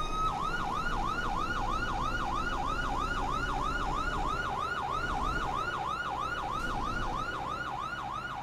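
Modded ambulance and police car sirens in Euro Truck Simulator 2 wail loudly and continuously in a fast, regular up-and-down cycle, close by and unbroken over a low engine rumble.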